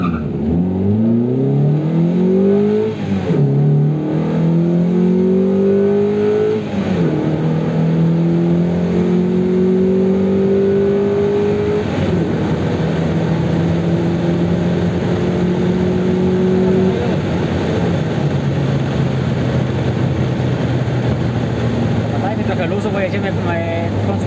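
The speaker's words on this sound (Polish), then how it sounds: "Launch control powinien być ustawiony na 4500. No to okay. Sprzęgło i gaz do podłogi." A Mazda MX-5 MK2.5 on a Speeduino standalone ECU launches at full throttle from 4500 rpm launch control, its engine loud and close, climbing through repeated rising pitch sweeps with gear changes, while someone talks over it.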